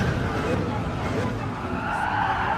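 A race car brakes hard on the Nordschleife with its tires skidding: a loud, continuous roar of engine and scrubbing rubber that holds steady for a few seconds.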